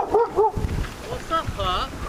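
A dog by a windy pond gives a few short yips and whimpering barks, close by, with someone talking over and between them.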